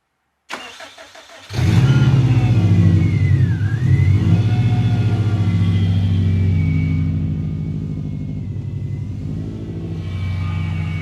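A Subaru WRX engine cranks briefly, catches and roars into a loud rev, then settles to a steady, close, rumbling idle with slight surges, no one talking.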